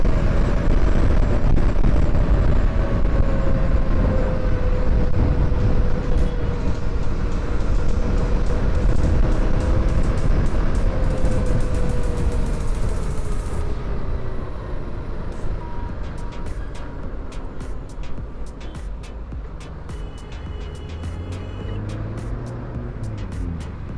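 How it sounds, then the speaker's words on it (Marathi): A KTM Duke 390 Gen 3 motorcycle riding after its first service, with a steady loud engine and road roar that holds throughout, easing and dropping slightly toward the end. "बाकी मस्त पळते आता गाडी."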